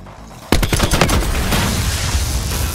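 Loud gunfire in the Call of Duty Black Ops 4 campaign, a sudden burst of rapid shots that runs into sustained heavy firing with booming impacts and echo, with no talk over it.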